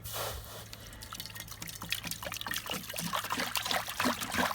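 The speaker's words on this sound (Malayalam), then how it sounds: "നമുക്ക് എന്ത് ചെയ്യുക, വെള്ളം ഒഴിച്ചു കൊടുക്കാം" Water poured into a heated uruli pan on a stove to make syrup for jalebi, a steady close trickle and splash that continues throughout with no talking.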